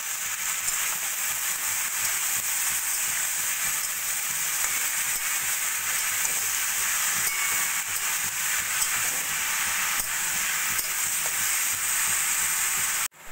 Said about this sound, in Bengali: এবার আমি পুরো লাউটাই মশলার সঙ্গে মিশিয়ে নেব এইভাবে।